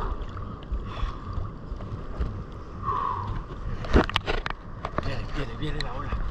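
Ocean wave breaking at Montañita beach, Ecuador, a broad wash of surf noise rising to a louder crash near the middle, with wind buffeting the microphone and a voice talking over it.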